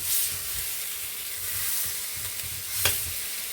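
Chicken and vegetable wrap sizzling in a pan, a steady, close frying hiss with light crackling pops and a brief scrape near the end.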